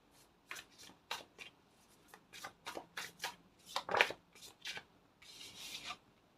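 Tarot cards are shuffled in a series of soft, close rasping riffles and slides, about a dozen separate bursts ending in a longer rustle, quiet and alone.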